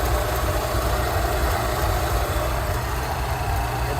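A Rolls Royce Silver Shadow engine with twin carburettors idles steadily at low RPM while the carburettors are being tuned. The rumble is close, constant and broadband, with no speech over it.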